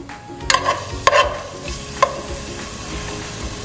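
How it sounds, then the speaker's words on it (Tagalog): Minced garlic hits hot oil with a bright, steady sizzle, with a few clinks of a utensil stirring near the start, loud and close with no talking. "kung mainit na yung mantika, ilagay na natin yung ating bawang, minced garlic"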